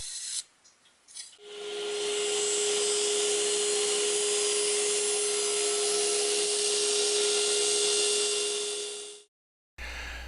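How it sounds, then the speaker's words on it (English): A table saw blade cutting splines in a wooden picture frame: the saw spins up, then a steady loud whine and rasp as the blade cuts the wood for about eight seconds, before spinning down, close and without talk. "So I'm just going to use my saw blade width here, and then cut the splines just slightly smaller."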